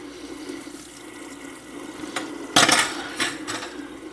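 Tap water running into a kitchen sink while something is rinsed off, a soft steady trickle that surges into louder splashing bursts toward the end.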